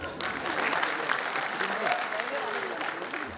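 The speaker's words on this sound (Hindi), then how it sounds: "उनके बालों के लिए तालियां" Audience applause at the IFFI 2018 film festival event, a dense wash of clapping from a large crowd that holds steady at full loudness, with some voices mixed in.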